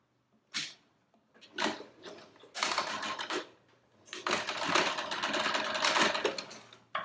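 Sewing machine stitching a hat with back tacking, running in short bursts that start and stop and then one longer steady run, close and clear with no talking.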